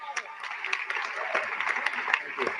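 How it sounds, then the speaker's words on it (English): Dinner audience applauding Chuck Schumer, a scattered crowd of claps rising and thinning over a couple of seconds, with voices mixed in. "Can we have a round of applause for Chuck Schumer?"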